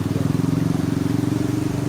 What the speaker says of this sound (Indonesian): Maaf ada suara motor gitu ya